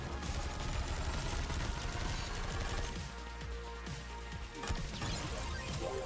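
Rocket launcher fire and explosions in the arcade shooter Nex Machina, a dense nonstop barrage of rapid shots and booming blasts layered over game music, loud and chaotic throughout.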